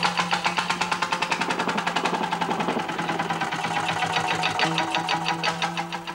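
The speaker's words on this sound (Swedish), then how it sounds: "när den här gamla tändkulemotorn intill sparkar igång" An old hot-bulb engine beside a boat at the Orust boatbuilding school chugs into life, a rapid, regular mechanical thumping that stays loud and even throughout.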